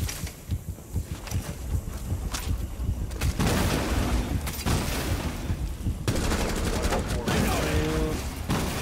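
Gunfire from a teammate in Rainbow Six Siege comes in repeated loud bursts of rapid shots, the volleys growing denser and more continuous in the second half.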